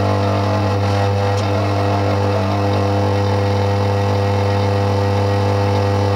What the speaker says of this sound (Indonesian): bahwa mesin vakum ini menarik ya